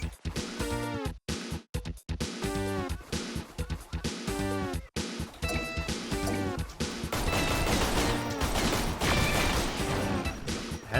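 Video game gunfire aimed at a monster, with a dense barrage of sharp shots, impacts and crashes over a busy game soundtrack, bursts clustered early and then a continuous loud clash.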